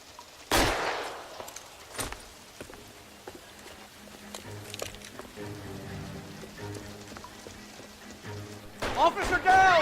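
Gunfire in the video game L.A. Noire: a loud sharp shot near the start, then scattered lighter cracks and another burst of shots at the end, under mixed voices and low game music.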